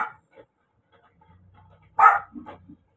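A dog with a thick, curly coat lets out one loud, close bark, followed by a couple of softer yips and whimpers in an otherwise quiet room.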